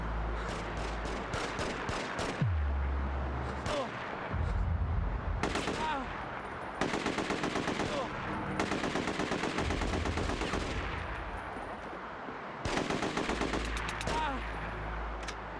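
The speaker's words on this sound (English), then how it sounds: "He can just keep shooting infinite rounds, though." Repeated pistol gunshots from the PS2 game The Getaway, loud sharp bursts fired in quick clusters with short pauses between volleys, layered over game music and low rumble.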